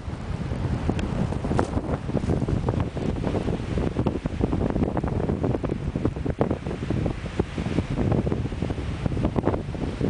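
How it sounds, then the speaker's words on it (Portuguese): Strong wind gusts roar and buffet the microphone during a spring blizzard, a constant loud rushing noise filling the whole stretch with no voices. "aqui que tá a ventania mesmo"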